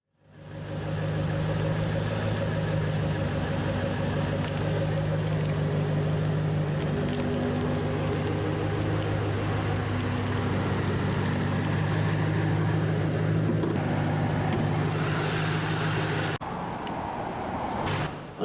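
A supercharged 5.4-liter dual overhead cam V8 in a 2009 Ford Mustang Shelby GT500 convertible idles steadily and close, a continuous low rumble that drops away abruptly near the end.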